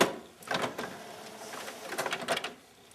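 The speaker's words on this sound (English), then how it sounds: "So I'm printing the same full sheet that I just printed before" A printer running through a page, with mechanical whirring and clicking bursts that rise and fall, fairly quiet with no talking.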